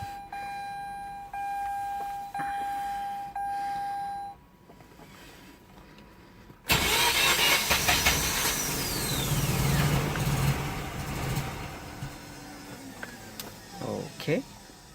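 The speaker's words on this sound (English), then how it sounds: "I'm gonna turn it off, back on, and we're gonna try to crank this thing." A Mazda RX8 rotary engine cranks with a series of rhythmic starter bursts, pauses, then catches and runs loudly with a rough, revving idle close by.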